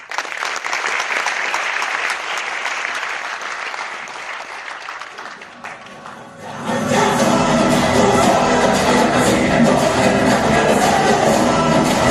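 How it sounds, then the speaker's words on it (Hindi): An audience at a motivational talk breaks into loud, dense applause that swells suddenly midway and then sustains as a steady roar of clapping, with a voice speaking over the quieter start. "तो जबरदस्त तालियां आप सबके लिए दीजिए।"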